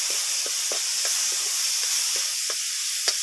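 Tomatoes dropped into fried onions in a hot pan, a constant loud sizzle and hiss with small pops and crackles spaced through it.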